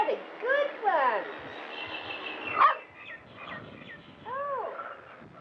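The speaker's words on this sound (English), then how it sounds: "Puppies!" Several puppies yip and bark in short high bursts, mixed with squeaky whines and a sharp yelp near the middle, fairly close and moderately loud.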